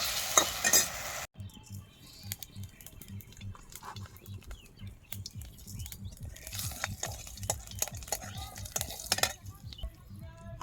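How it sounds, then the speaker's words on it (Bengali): Egg being sautéed with nate (jute) greens in a pan, with steady stirring scrapes and soft sizzling throughout, a louder clatter at the start, then continuous close-up spoon movement and light frying. "ডিমটা দিয়ে আমি একটু কষিয়ে নেব"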